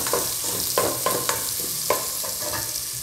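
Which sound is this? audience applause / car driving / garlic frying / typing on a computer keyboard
garlic frying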